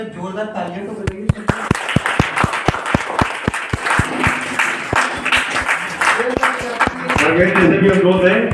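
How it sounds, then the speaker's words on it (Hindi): An Indian ceremony audience claps in loud, distinct individual claps that build into a steady rhythm, with talk and background voices running underneath throughout. "भाई साहब जरा जोरदार तालियां तो बजाइए।"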